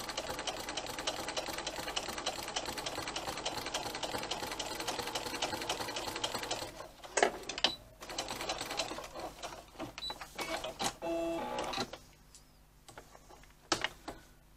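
A sewing machine stitches the ears of a teddy bear, running steadily and close for about six seconds, then continuing in shorter stop-start bursts with small clicks and handling noises between runs.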